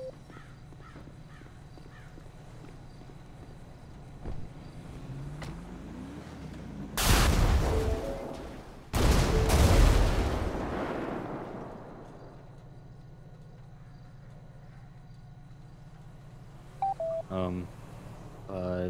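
Two loud explosion bursts in the FivePD police video game, each a sharp broadband boom with a rumbling tail, heard over quiet game ambience with faint radio beeps near the end.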